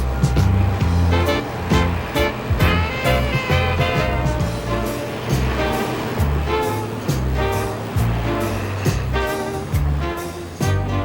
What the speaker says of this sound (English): These trucks are even bigger and can carry tons of dirt in one load.